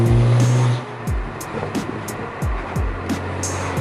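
A BMW N54 engine with a catless downpipe rumbles nearby, a low steady drone from the exhaust with a few short rising revs and throttle blips over faint background hiss.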